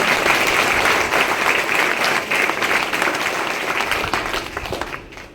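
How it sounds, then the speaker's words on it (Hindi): Audience at an RCM business meeting in Nadiad breaks into steady, dense applause, loud and sustained for several seconds before tapering off near the end. "ताली दे बजना चाहिए"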